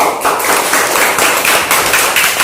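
A classroom of pupils clapping their hands, loud and close, a quick rough burst of many overlapping claps with uneven rhythm and no talk.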